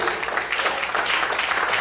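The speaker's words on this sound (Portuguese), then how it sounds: "Mais fortes as palmas" A church congregation claps together during worship, a steady broadband wash of many hands applauding continuously and fairly loud, with no clear gaps.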